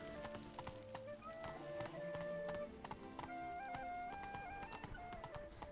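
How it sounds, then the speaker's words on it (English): Horse hooves in the video game The Witcher 3 clip-clop as the rider urges the mount on, a quick, steady patter of hoofbeats under melodic game music, moderately loud with no talking. "can probably ride down on my pony"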